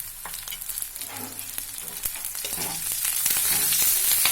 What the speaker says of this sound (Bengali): আমার পেঁয়াজটা ভাজা হয়ে গেছে, এবার কাঁচা লঙ্কাগুলো দিয়ে দিই